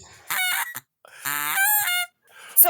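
A person imitates a strangled, honking goose-like call in two loud, harmonic bursts with a short gap between them, then a fainter third sound at the end.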